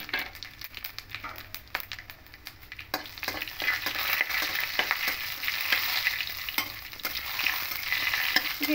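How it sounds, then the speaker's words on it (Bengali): Whole garam masala, cumin and a dried chilli sizzle in hot mustard oil, a steady broadband crackle that swells after the first few seconds, with scattered sharp pops and occasional spoon clicks. "এবার এই তেলের মধ্যে গোটা গরম মশলা, জিরে আর একটা লঙ্কা, শুকনো লঙ্কা ফোড়নে দেব"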